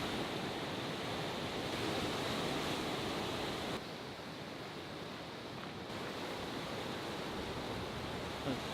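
Steady ocean surf washing in at Red Sand Beach on Maui, a continuous broad rush with wind buffeting the microphone and a slight dip in level partway through, no voices.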